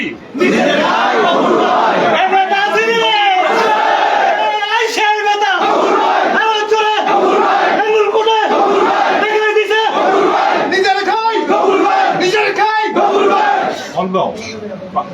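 A large crowd at a BNP party introduction meeting and reception in Nangalkot chants political slogans in unison, loud rhythmic call-and-response shouting repeating steadily throughout.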